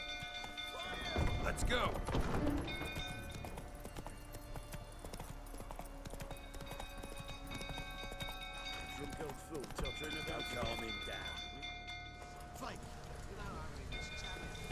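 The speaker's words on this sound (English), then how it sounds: "I like that I actually come in on my horse." Horse hooves clip-clopping at a gallop in the video game Witcher 3, a steady rhythmic beat running throughout under game music and occasional talking.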